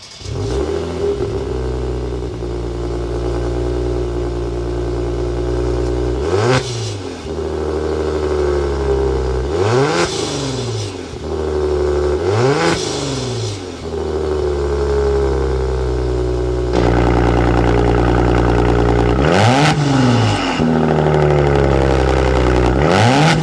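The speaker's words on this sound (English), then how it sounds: "the big key is hearing that exhaust note" A 2022 Maserati Quattroporte's exhaust blares close and loud as the engine is revved repeatedly, each rise in pitch followed by a drop back, then a final hard run.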